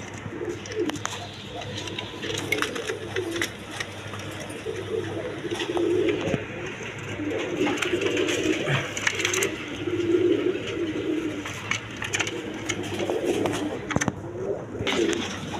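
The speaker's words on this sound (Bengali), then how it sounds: "এখানে এক পেয়ার কবুতর মানগাল কবুতর আছে" A pair of mangal pigeons coo repeatedly in low, rounded bursts that come close by, over a steady bed of background noise.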